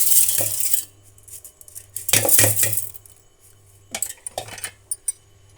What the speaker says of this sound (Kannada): ಈಗ ನಾನು ತೊಳೆದಿಟ್ಕೊಂಡಂತಹ ಹುರುಳಿಕಾಳನ್ನು ಮಿಕ್ಸಿ ಜಾರ್ಗೆ ಹಾಕ್ಕೊಳ್ತಾ ಇದ್ದೀನಿ